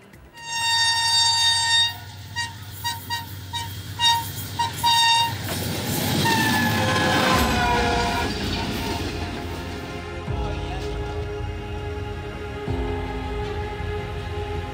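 A train at a railway station sounds long, loud horn blasts, followed by the heavy rumble and screech of wheels on rails that continues steadily as the cars roll through.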